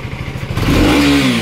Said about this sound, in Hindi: 390 एग्जॉस्ट नोट इसका आप लोग सुन ही रहे होंगे